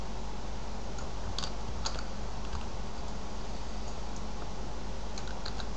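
Typing on a computer keyboard, a run of light key taps in small bursts, close but soft against a constant low hum, with no voices.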